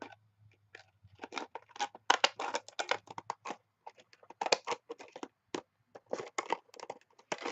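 Sharp scissors snipping through stiff plastic packaging, a run of close, crisp clipping and crackling bursts in irregular clusters with short pauses between them, no talk over it.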